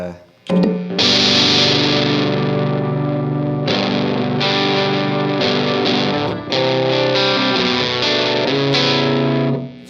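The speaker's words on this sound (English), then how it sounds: "So like if you listen to that Big Muff." An electric guitar played through a Big Muff fuzz pedal rings out in thick, sustained distorted chords and notes, loud and close, with short pauses between strums.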